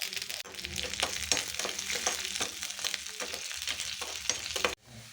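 Mustard seeds, finely chopped shallots and pepper spluttering and sizzling in hot oil for a tempering, with steady crackle and utensil clicks until an abrupt drop near the end.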